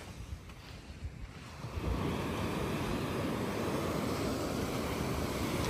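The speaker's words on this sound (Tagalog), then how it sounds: "This is a beautiful waves." Cold ocean waves at a beach wash in as a soft, diffuse hiss that swells into a louder, continuous roar of surf, mixed with wind buffeting the microphone.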